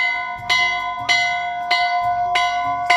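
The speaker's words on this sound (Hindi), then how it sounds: "ये सबसे पुराना घंटा है, जब इस मंदिर की स्थापना हुई होगी तब का घंटा ये।" A very old metal bell at a temple in an Uttarakhand village rings out close and loud, struck five times at an even pace with long ringing tones between strikes.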